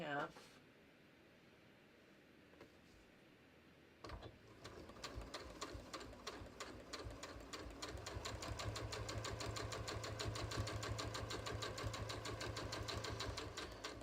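A sewing machine runs steadily while top stitching across the top of a jeans pocket at a long stitch length, starting after a quiet stretch with a voice talking over the even whir.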